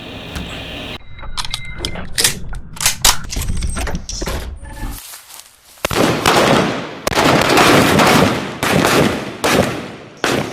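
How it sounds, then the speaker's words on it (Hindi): A rapid series of sharp, loud gunshots of live rounds, some in quick bursts, with short pauses between; cracks echo outdoors at an Indian Army training site near the India-Pakistan border and dominate with no speech. "ये असली गोलियां चला रहे हैं। असली गोलियां।"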